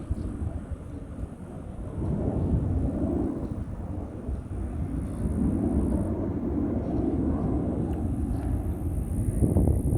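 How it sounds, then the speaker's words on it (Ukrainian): An airplane passes overhead during a summer walk on a grassy hill in Gdańsk, a steady low broadband roar that swells slightly and holds throughout, distant but continuous, with wind noise and no talking. "Літак летить."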